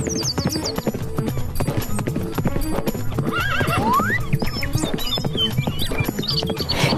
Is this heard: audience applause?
no